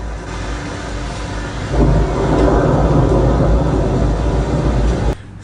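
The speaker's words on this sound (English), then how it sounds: "I managed to get some thunder as well" Thunder recorded in London during rain: a low, broad rolling rumble that swells louder about two seconds in, holds steady, then cuts off sharply near the end, with no voices.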